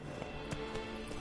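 A horse galloping in The Witcher 3, a short burst of hoof thuds at an uneven pace over a steady background hum, moderately close.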